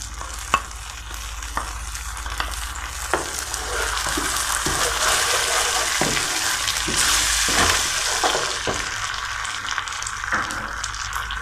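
Garlic sauce poured into Chicken Manchurian in a hot pan, a bright steady sizzle with scraping stirs and clinks of a spoon against the pan, close and continuous, no talking.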